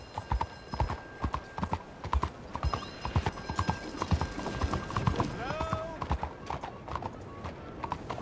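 Horse hooves clip-clop at a steady walking rhythm in Red Dead Redemption 2, close and distinct, with a neigh and bursts of talk over them.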